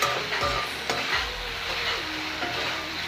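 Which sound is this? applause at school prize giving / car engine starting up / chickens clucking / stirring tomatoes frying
stirring tomatoes frying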